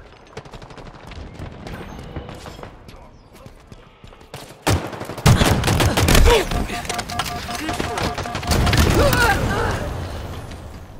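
Gunfire during a live fire exercise in Halo Infinite, scattered shots at first and then dense rapid automatic bursts with booming impacts, loud and close, under a spoken voice.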